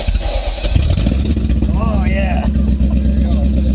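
A manual-swapped BMW 540 wagon built as a drift project fires up for its first start, its engine rumbling loud and close throughout with a deep, steady drone while a voice briefly speaks over it.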